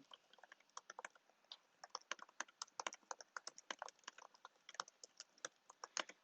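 Rapid, uneven clicking of keys on a computer keyboard, close by and steady for several seconds with short bursts and pauses, no voices.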